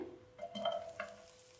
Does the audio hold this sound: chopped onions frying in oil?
yes